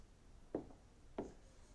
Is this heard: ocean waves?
no